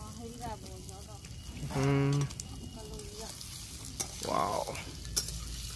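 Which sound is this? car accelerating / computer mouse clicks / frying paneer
frying paneer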